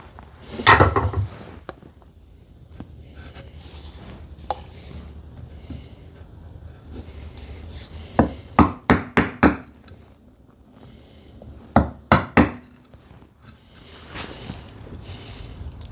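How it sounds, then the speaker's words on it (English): A hand chisel works into wood while building a TV unit, with quiet scraping and handling followed by two bursts of sharp, rapid strikes near the end. "Yeah, I think this chisel is the right size."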